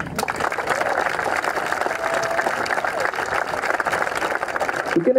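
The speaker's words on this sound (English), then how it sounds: "can we have a big round of applause for all our guest speakers today?" A crowd applauds guest speakers at the opening ceremony of a university rugby sevens championship, a dense sustained clapping that fills the space and holds steady throughout, loud and continuous.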